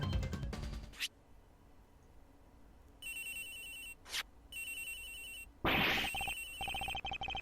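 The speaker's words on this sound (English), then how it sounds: "Agent Hicks's phone. It's ringing from somewhere, sir." A mobile phone rings in the Ace Attorney Investigations video game, with repeated electronic ringtone bursts broken by short gaps and a few brief game sound effects in between.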